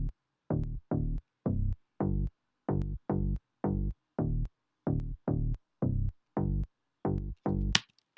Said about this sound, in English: So this is what the bass sounds like.